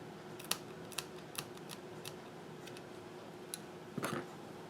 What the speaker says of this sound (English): And then trim them off.